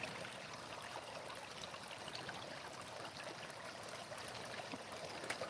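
Water runs steadily through a gold sluice box packed with dug material, a continuous trickling, splashing flow heard up close with no talk over it.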